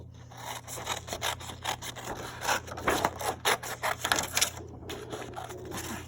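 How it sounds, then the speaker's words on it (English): Scissors snipping through paper to cut out a tree silhouette, a series of close, irregular crisp cuts and rustles with short pauses between them, over a faint steady hum. "Then I'm going to get my scissors and I'm going to cut this out."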